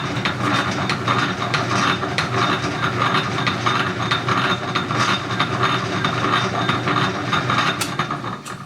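A repaired Keller power hacksaw runs continuously, its blade stroking back and forth with a rhythmic mechanical clatter and ratcheting, loud and close with no talk.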